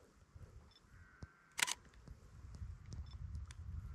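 A single crisp camera shutter click, taking a photo of a mountain summit peeping out of cloud, stands out against quiet outdoor ambience with faint rustling and a low wind rumble that builds.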